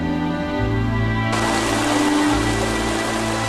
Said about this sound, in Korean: 오후엔 마을에 갑자기 소나기가 쏟아졌습니다.